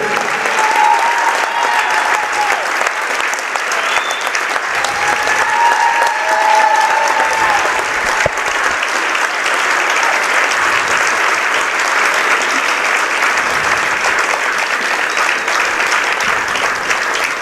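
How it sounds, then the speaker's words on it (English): Gym spectators at a Portland High vs. Bangor varsity boys' basketball semifinal give a long standing ovation to a 50-year announcer, with steady, full applause sustained throughout and a few faint whistles and shouts. "A nice standing ovation for Peter Gribbin, well deserved."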